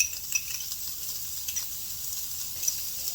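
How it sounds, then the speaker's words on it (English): Red and green peppers sizzle in bacon grease in a hot pan, a constant crackling hiss with small pops and faint utensil clinks, no voices. "Add our red and green peppers. Turn the heat down just a tad. Oh yeah. And we're going to add a little bit more of that bacon grease."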